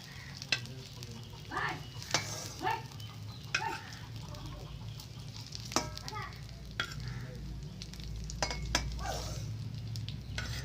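Stuffed pointed gourd (potol) frying in oil over a low flame, a steady soft sizzle with occasional utensil scrapes and stirring clicks, no one talking.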